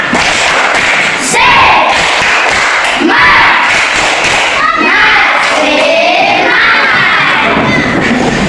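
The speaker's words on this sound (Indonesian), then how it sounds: "Kalau begitu tepuk semangat." A school class in Indonesia does a rhythmic spirit clap, with loud group claps and thumps mixed with children shouting and cheering together for several seconds, a dense burst of noise from the whole room.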